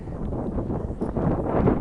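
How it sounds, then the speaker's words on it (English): Steady wind rumbles and buffets outdoors, a low continuous roar with gusty swells and no voices. "it's windy out here"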